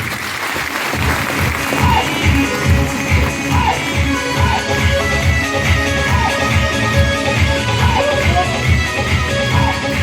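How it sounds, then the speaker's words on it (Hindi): Rhythmic, steady group clapping fills the whole stretch, loud and close, as a crowd at a Mission Healthy India health event in Rohtak applauds volunteers in Haryana style with a faint cheer underneath. "एक बार हरियाणा वाली तालियां उनके लिए होनी चाहिए।"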